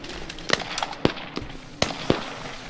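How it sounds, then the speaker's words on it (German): Grenade or rocket blasts in the military shooter Squad: several sharp, cracking detonations at uneven intervals over a noisy battlefield background. "eine Granate! Eine Rakete."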